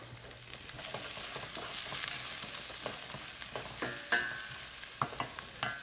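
Onions sizzle in a pan while being stirred, a quiet steady fry with occasional spatula scrapes and small clinks, heard close with no talking.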